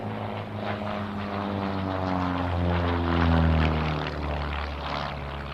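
Propeller aerobatic airplanes in a split S head-to-head pass at a military airshow, engines droning loud and steady, swelling as they close and sweeping in pitch as they pass.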